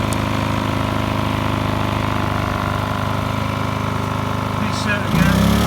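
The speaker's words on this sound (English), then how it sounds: "Look at this generator running 2 circular saws." A Briggs & Stratton P2200 generator runs under heavy load powering two circular saws, giving a steady, loud engine drone that strains and shifts in pitch near the end.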